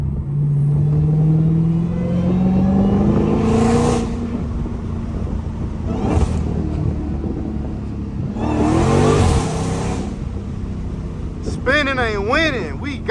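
Dodge Hellcat SRT engine revs up with a rising roar while driving through city streets, two surging accelerations with rumbling in between, ending in a brief high squeal like tires spinning.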